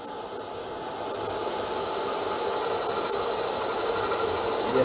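An electric motor run by a variable frequency drive gives a steady, high-pitched electrical whine over a broad mechanical hum, growing slightly louder as the drive frequency is raised.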